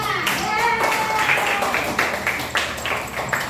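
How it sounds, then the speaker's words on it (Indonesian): A group of children in a classroom claps hands together, with sharp, fairly close claps falling in loose rhythmic bursts and children's voices chattering around them. "Tepuk tangan untuk kita semuanya."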